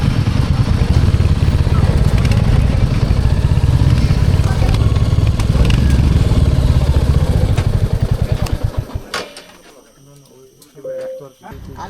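Motorcycle engine running loud and close at the entrance to Trishna Wildlife Sanctuary, a rough steady rumble that sputters and cuts off near the end, leaving quiet with faint bird sounds.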